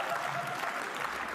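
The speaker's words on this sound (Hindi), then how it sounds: "आशीष क्यों खड़े होकर ताली बजा रहे इसमें?" Steady clapping from Ashish standing up amid a comedy roast audience, a dense, continuous patter of hands with a little crowd murmur underneath.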